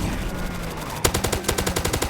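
Rapid automatic gunfire in the Roblox zombie attack video game starts abruptly after a second of background game noise, then continues as a fast, evenly spaced burst of loud shots.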